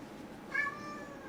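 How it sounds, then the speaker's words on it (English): A single short, faint cat meow in a quiet room, rising and then trailing off, alone with no talking. "So many meows for me."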